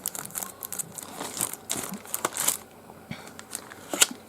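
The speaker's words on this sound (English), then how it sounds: "here is a plastic bag stuffed into the package" A plastic bag stuffed into a Padcaster Parrot V2 teleprompter package crinkles and rustles up close in irregular bursts of crackly handling, with sharper snaps now and then and no voices.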